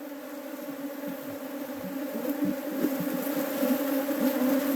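Honey bees drone in a steady, dense buzz around an open hive box as frames are returned inside, the swarm growing slightly louder toward the end with no talking.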